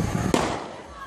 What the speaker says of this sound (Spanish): Un testigo lo graba todo, hasta el último disparo.